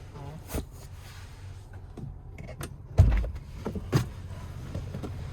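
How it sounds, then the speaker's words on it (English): Power windows on a 2025 Ford Bronco Outer Banks running one-touch up and down, a low steady motor whir inside the cabin broken by a few soft clicks and a louder thump near the end. "You do get one-touch up and down windows on all four doors"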